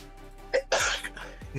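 A single close, sharp sneeze with a brief intake of breath before it, in a quiet room during a cosplay crafting session.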